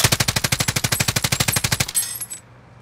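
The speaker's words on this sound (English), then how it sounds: "he's shooting like that" Rapid automatic gunfire in Call of Duty: Modern Warfare: one sustained burst of about twenty evenly spaced, loud shots, then a brief ringing tail as the firing stops.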